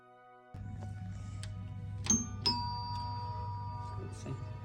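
A doorbell chimes a couple of times indoors, bright ringing tones over a steady low hum, with a voice imitating the ding-dong.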